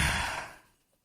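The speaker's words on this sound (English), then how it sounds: "Just a big yawn." A big yawn from a man on a radio podcast, a single breathy exhale that starts loud and close, then tapers off into quiet within about a second.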